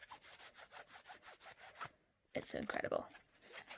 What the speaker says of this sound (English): the deck itself is absolutely beautiful to shuffle